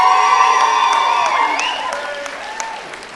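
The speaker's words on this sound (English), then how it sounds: "A noisy crowd." A large crowd at a university convocation ceremony for Mount Saint Vincent University graduates cheers and applauds loudly, with whoops and shouts over dense clapping that gradually eases off across the few seconds.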